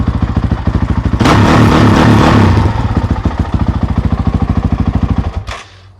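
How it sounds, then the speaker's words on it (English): A Honda CRF450X dirt bike fitted with an aftermarket FMF silencer fires up close by with sharp, rapid popping exhaust pulses, revs hard for about a second, then settles into a fast, loud idle before cutting off. "Let's fire it up really quick. Let's see how it sounds."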